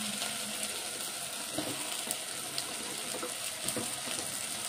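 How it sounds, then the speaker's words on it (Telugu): Okra pieces frying in hot oil with cooked-down tomatoes, a soft continuous sizzle with occasional light clicks and stirring scrapes, close and fairly quiet. "ఇప్పుడు బెండకాయ ముక్కలు వేసుకుందాం."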